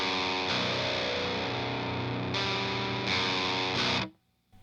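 Distorted electric guitar playing a song, a thick sustained chugging riff with heavy effects, loud and continuous, cutting abruptly to near silence at the end.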